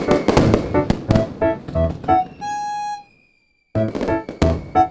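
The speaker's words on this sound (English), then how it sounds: "New Year's Eve fireworks." New Year's Eve fireworks crackle and bang in rapid sharp bursts, with a brief whistling tone rising through the volley before a short silence and another run of loud pops.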